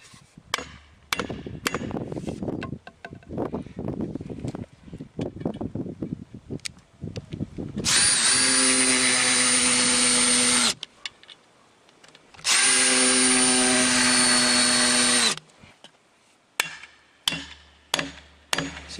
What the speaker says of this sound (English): I'll get a screw drill and screws.